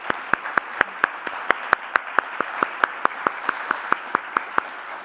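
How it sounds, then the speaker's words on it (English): At a World Wildlife Day conservation event, sharp evenly spaced claps ring out in a steady rhythm, like one or a few people clapping in time, over a faint background hiss. "I wish you could please accompany me in a clapping an applause for our speakers today."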